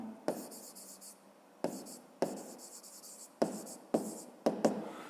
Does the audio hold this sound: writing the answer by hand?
yes